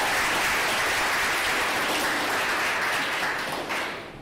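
Audience applause at a poetry reading, a dense, steady wash of many hands clapping close by that holds for about four seconds and then begins to thin and fade.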